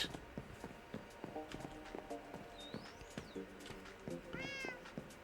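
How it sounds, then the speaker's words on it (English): A Minecraft cat gives a couple of short, rising meows amid clopping, hoof-like footstep thuds and other game noises, the mews standing out clearly over the rhythmic taps without speech. "Yes, cat."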